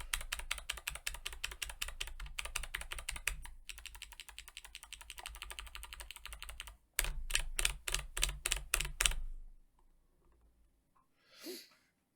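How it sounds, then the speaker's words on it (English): Kailh clicky keyboard switches needing 60 grams of force pressed over and over, a dense run of sharp close clicks followed by a slower, evenly spaced series of louder clicks, then quiet. "It's also a clicky one that requires 60 grams of force"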